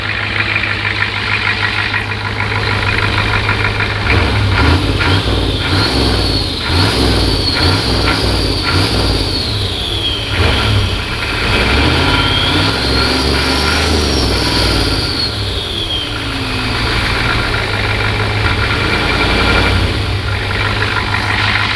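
A 1988 Ford F250 with a 7.3 IDI diesel, freshly repaired head gasket and no muffler, idles loud and smooth, its close, raw clatter broken by a few quick revs that rise and fall before settling back.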